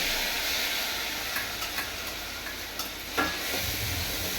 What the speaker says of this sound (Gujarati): તો આપણે નાખી રહ્યા છીએ પૌવા.